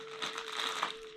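A Ziploc plastic bag crinkles as it is opened, a brief close rustle of soft plastic with a steady hum behind it.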